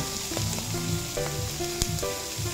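Beef innards being sautéed in a pan for papaitan, with salt and ground pepper added. A dense close sizzle runs throughout, broken by clanks and scrapes of a spatula against the pan, and no one speaks.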